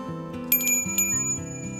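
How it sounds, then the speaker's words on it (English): A small bell strung on wire among beads for a beaded cardinal ornament jingles softly: a few light, bright tinkling strikes with ringing overtones, close and quiet against a faint steady background. "So now we have our bell set up."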